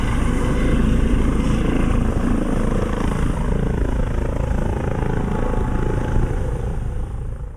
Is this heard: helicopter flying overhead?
yes